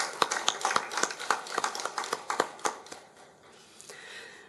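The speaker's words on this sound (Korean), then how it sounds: "감사와 영광의 박수 올려드립니다" On a church anniversary Sunday, a congregation bursts into sharp, distinct clapping that runs for about three seconds, then fades into quieter room murmur.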